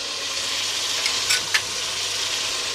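Ginger, garlic, salt, chilli powder, turmeric and coriander powder with dried chilli flakes frying in a pan for an aubergine and potato curry, a steady close hiss and sizzle with a few brief stirring scrapes.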